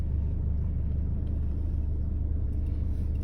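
Diesel car engine idling steadily after being switched off and restarted, a constant low rumble held throughout with no revving.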